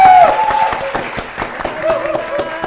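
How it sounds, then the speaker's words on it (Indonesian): A TV quiz show studio audience applauds both competing teams, with rhythmic clapping and light cheering over a loud musical sting and a voice in the mix. "Tepuk tangan dulu untuk kedua tim peserta."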